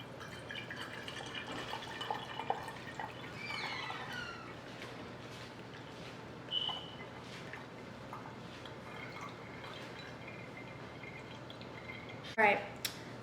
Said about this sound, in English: So I'm about to strain it.